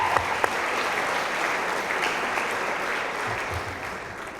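An audience at a university athletics awards night applauds a women's volleyball athlete with dense, steady clapping that fills the room and holds at an even level before easing slightly toward the end.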